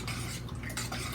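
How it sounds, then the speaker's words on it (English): Mashed food being stirred with a utensil in a pot or bowl after fresh ground pepper is added, a steady close scraping and clinking with no talking. "I'm going to add some fresh ground pepper to it. I like my food spicy, like I said. I'm going to stir it up"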